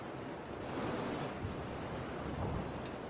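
Steady wind ambience from a sound emitter in the video game Dying Light, a soft, continuous broadband rush like gusting air or distant surf, faint and unbroken with no voices.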